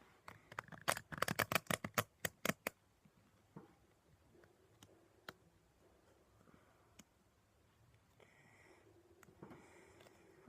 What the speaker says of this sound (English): I'm not very good at this shuffle